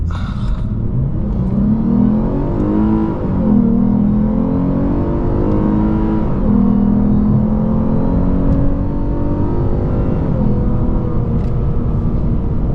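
A 2022 Lexus RC350 F Sport with aftermarket modifications pulls hard onto a highway, its engine droning loud and close from inside the cabin, revs rising and falling through gear changes over a steady road rumble.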